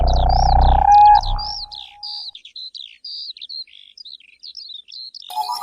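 A bird chirps in quick, bright repeated tweets in an animated Hindi story, starting under a fading musical tone and then continuing alone as a string of separate calls.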